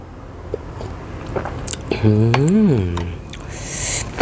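Close biting and wet chewing of beef offal soup with vegetables, soft squishy crunches repeating over a few seconds, while a voice briefly hums a rising and falling note in the middle.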